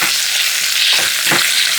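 Chopped onions sizzle in a pan with mustard seeds, cardamom and cinnamon for a mango curry, a continuous close crackle broken by two brief stirring scrapes.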